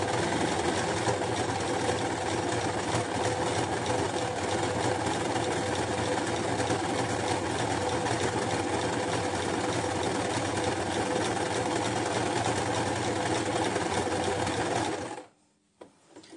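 Sewing machine running a twin needle along knit fabric, a close, loud, continuous mechanical whirring with rapid stitching rhythm that holds steady for about fifteen seconds before stopping abruptly.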